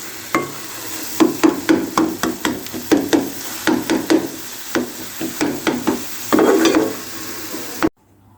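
Carrot and egg halwa roasted in a pan, with a spoon scraping and knocking in a steady rhythm of close, repeated strokes over a soft sizzle.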